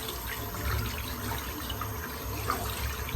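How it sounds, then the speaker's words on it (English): A lather-filled shaving brush is rinsed under a running tap, with a steady hiss of water splashing into a sink and no talking. "Just going to rinse out the brush."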